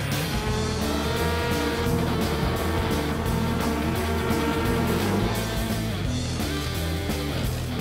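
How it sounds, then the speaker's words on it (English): Race car engine running loud and steady throughout a demonstration taxi ride at a DTM season-opener event, with continuous roaring drone and some tire noise, no pauses and no talk. "Rosberg as chauffeur in the racing taxi with David Coulthard."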